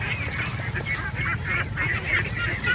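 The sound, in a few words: free-range ducks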